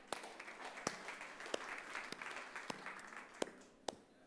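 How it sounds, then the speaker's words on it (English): An audience at an Adobe Create Now meetup gives soft, scattered applause, with a few distinct sharp claps standing out over a light, steady patter. "Round of applause for you guys."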